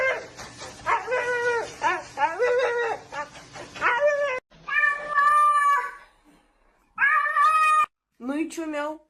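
A cat meows repeatedly in loud, drawn-out, wailing calls close to the microphone, some notes rising into caterwauls, with a dog's yips mixed in and voices.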